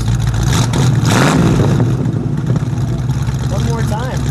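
A 1978 Ford Mustang King Cobra with a 302 V8 rumbles steadily up close, its low engine note swelling in a rev near the middle before settling back, with brief voices over it toward the end.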